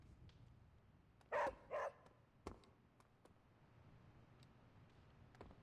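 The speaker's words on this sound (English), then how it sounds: "you have to praise the dog" Charlie the dog, a girl praised in a Midnight Suns game scene, gives two short barks close together, then a faint thump amid quiet room noise.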